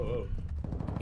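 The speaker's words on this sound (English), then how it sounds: "You shot twice." A rapid burst of video game gunfire, several sharp close shots in quick succession, heard alongside talking voices.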